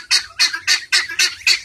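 Guinea fowl give six loud, rhythmic, harsh calls in steady succession on a farm, close to the listener, with no other voices.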